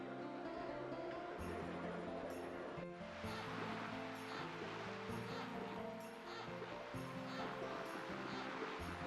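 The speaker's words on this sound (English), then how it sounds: "The creek sound just playing over and over." Constant rushing creek water ambience from The Legend of Dragoon video game, a steady looping wash with game music tones woven through it.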